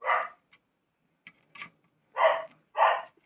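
A dog barks in short bursts: one bark, a pause, some faint yips, then two louder barks close together, in an otherwise quiet room.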